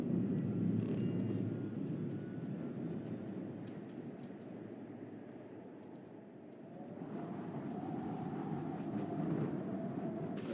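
Spaceship lifting off in the Starfield game, a deep sustained engine rumble that dips slightly, then swells again with a rising whine as the ship climbs.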